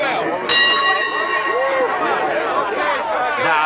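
A single bell strike rings out with a long, bright, sustained tone in a noisy setting, while excited voices and crowd shouting continue around it and after it.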